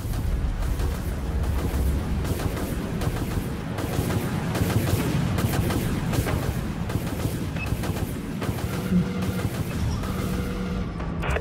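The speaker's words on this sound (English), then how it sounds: "Fire missiles, aye, Captain." Missile volleys and weapons fire in the naval combat game Dreadnought, a continuous barrage of overlapping booms and blasts with rapid percussive bursts throughout, loud and dense.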